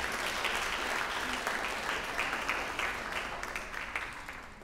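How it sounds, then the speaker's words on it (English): A crowd applauds steadily, loud and sustained, with the clapping gradually thinning toward the end. "Let's give her another round of applause for that."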